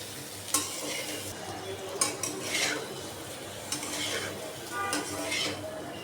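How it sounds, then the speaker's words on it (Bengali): Papaya pieces stir-fried in a pan crackle and sizzle up close, broken by repeated scraping strokes and metallic clinks of a spatula against the pan, with no talk. "এখন পেঁপে আমি সুন্দর করে কষিয়ে নেব"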